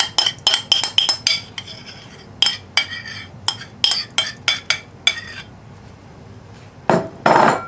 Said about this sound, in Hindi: इमली का जो मिक्सचर है इसमें ऐड करके मिक्स कर लेंगे